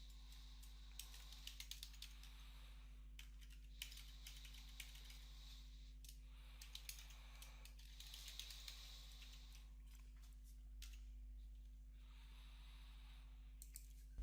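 Quick bursts of close keystrokes as booking details are typed on a computer keyboard, with irregular clicking runs and short pauses over a steady low electrical hum.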